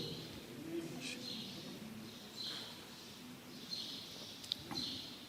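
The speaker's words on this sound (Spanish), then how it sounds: "Mira, los pajaritos están alegres." Small birds chirp in short high bursts while a dove coos softly in the background, all faint and distant over steady room noise.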